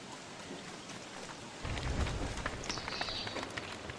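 Rain pours down in the video game Don't Starve: Reign of Giants, a steady wash of falling water that thickens abruptly partway through into a heavier, fuller downpour.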